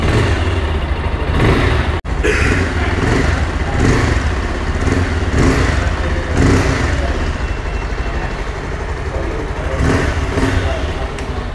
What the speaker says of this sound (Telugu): ఎగ్జాస్ట్ సౌండ్ అయితే చాలా మంచిగా వస్తుంది